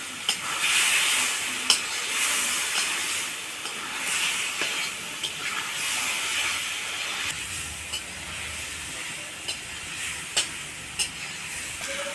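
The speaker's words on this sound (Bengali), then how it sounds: "এবার আমি ভালো করে কষে নেব" Masala sizzles and hisses steadily in a pan as it is sautéed with salt for a taro and snakehead fish curry, with a few soft stirring clinks over a continuous close frying sound and no talking.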